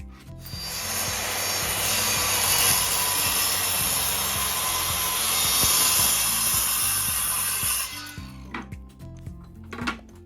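A power saw cuts wood boards into 52-inch straight edges, making a loud continuous high whine for about eight seconds, then spinning down, followed by a few light knocks as the boards are handled.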